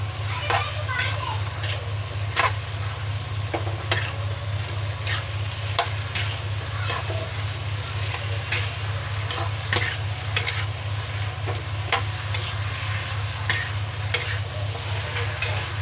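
Half a kilo of okra and four medium potatoes cook with fried spices in a pan, giving a steady sizzle broken by regular scraping stirs, with a low hum underneath and children's voices in the background.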